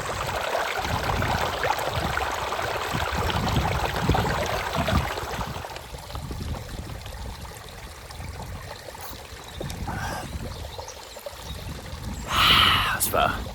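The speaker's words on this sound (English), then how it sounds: "I'm gonna fill my bottles up" Water from a mountain spring in a Madeira forest pours into drinking bottles, a loud close rush for the first several seconds that then drops to a quieter background as a person talks.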